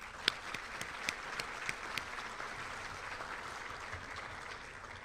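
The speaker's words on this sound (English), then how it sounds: "I think we need to give a round of applause to Ms. Thompson for pulling off a major event like this" Applause fills a high school senior awards hall, a steady crowd wash of clapping with a few louder individual claps standing out near the start, moderately distant and even throughout.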